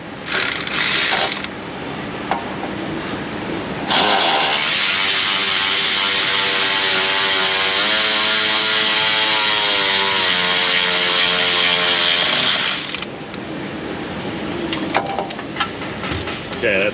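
A ratchet with a short 11 socket turns a nut on the hot-side boost pipe of a Silverado Duramax 6.6 L5p, giving a loud, fast continuous clicking for several seconds, with shorter bursts before and after.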